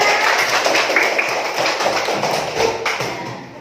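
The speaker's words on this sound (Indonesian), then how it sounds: "tepuk tangannya mana?" A class of pupils claps for a classmate who has just recited, a close, busy patter of hand claps that tapers off toward the end.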